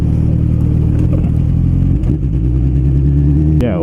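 A Kawasaki Z1000 motorcycle ridden off-road on rough ground, its engine a loud, close, continuous drone with clattering rattles throughout and a brief rising note near the end.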